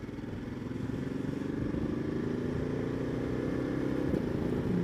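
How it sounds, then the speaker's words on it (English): Motorcycle accelerating through the gears with a quick shifter on a sunny road ride, the engine note rising steadily and loud throughout with brief dips at each shift, heard close up without speech. "The old quick shifter, get up the gears a little bit."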